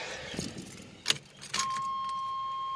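A Chevrolet Celebrity Eurosport on a cold start after sitting five months in heat and sun: a few clicks and jangling knocks, then a steady high-pitched whine sets in and holds evenly to the end.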